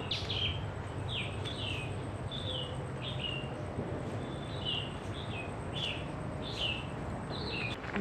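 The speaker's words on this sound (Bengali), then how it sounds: "যত ভেতরে ঢুকছি পাখির সাউন্ড কিন্তু এখানে প্রচুর" Repeated bright chirping calls ring out at intervals over a low hum of ambient noise at Chintamoni Kar Bird Sanctuary in Kolkata, a wooded urban reserve, the birds moderately distant and fairly faint.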